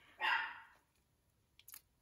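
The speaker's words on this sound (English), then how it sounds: "the dog's barking" A single loud dog bark close by indoors in a craft room, a female dog reacting to someone she thinks she sees, followed by faint quick clicks.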